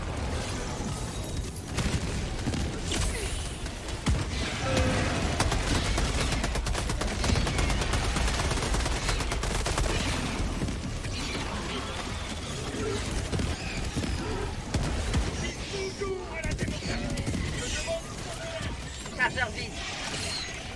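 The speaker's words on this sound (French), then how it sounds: "Faut vraiment tirer dans les parties" Dense, continuous gunfire and explosive bursts from the Helldivers 2 video game run through the whole stretch, with rapid automatic fire and heavy impacts layered under frequent talking voices.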